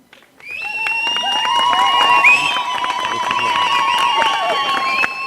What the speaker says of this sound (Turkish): Zılgıtlarımızı, alkışlarımızı, ıslıklarımızı buradan bir kez daha Ankara'ya mesaj olarak gönderiyoruz.